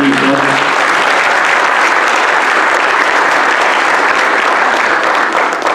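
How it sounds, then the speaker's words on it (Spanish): A conference audience gives a speaker sustained applause: dense, loud clapping that stays steady for several seconds before easing slightly at the end, with no talk over it. "Pido un aplauso aquí para nuestro ponente Víctor."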